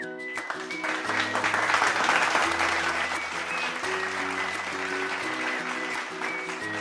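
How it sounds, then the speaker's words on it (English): Applause for grade 3 winners at a school closing ceremony. Steady clapping runs throughout, mixed with sustained background music tones. "Give a huge round of applause to the winners of grade 3."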